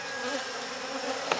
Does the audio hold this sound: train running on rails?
no